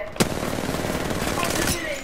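Rapid burst of gunfire at a firing range with dummy targets, a fast rattling string of shots that runs for about two seconds and opens with a sharp crack.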